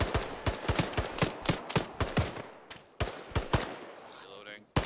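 Repeated sharp gunshots fire against zombies in a video game, a steady string of loud individual shots close by in quick succession, with talk in the background and a brief lull near the end.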